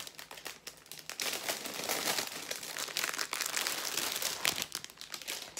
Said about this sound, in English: Excuse all the crinkling.